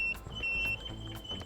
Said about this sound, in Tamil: பஸ்ஸர் வந்து பீப் சவுண்ட் வந்து கேட்குது.